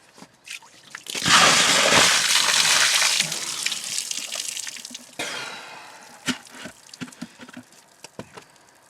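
A bucket of ice water at 6 degrees is poured over someone in a loud, close splash lasting a couple of seconds, followed by dripping, trickling water and gasping breaths.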